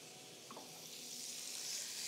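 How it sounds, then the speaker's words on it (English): A quiet, steady hiss of steak sizzling on a hot grill pan, swelling slightly louder toward the end. "Love that sizzle."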